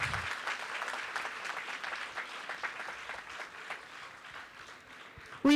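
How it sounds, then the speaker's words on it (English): A school audience gives sustained applause welcoming a guest at a foundation day celebration, steady dense clapping from many hands that holds at an even level for several seconds before ending abruptly in a loud tone. "may I request everyone to give a huge round of applause to welcome Madam here on the"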